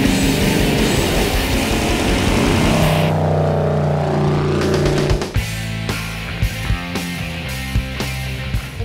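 A giant custom-built motorcycle with a 502 engine of about 500 horsepower roars loudly and revs up close, then drops to a deep, rhythmic pulsing idle.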